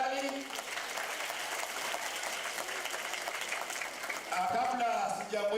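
An audience applauds at a polio vaccination campaign launch, a sustained patter of clapping heard at moderate distance, with a voice speaking briefly near the start and again toward the end.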